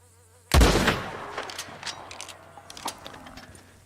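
A single sharp rolling block rifle shot in Red Dead Redemption 2, a loud close crack that rings out and decays over a few seconds with faint clicks and rustle behind.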